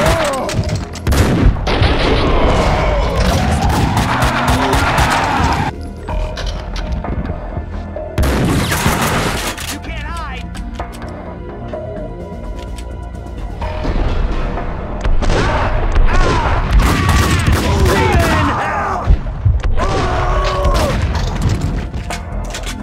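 Gunfire rings out in Max Payne 2 during a shootout in a police department, with loud booming shots and rapid bursts repeating across a long stretch, mixed with game effects and short pauses between volleys.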